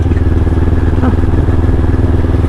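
A motorcycle engine running steadily up close, a loud continuous low rumble with even pulsing throughout, no speech over it.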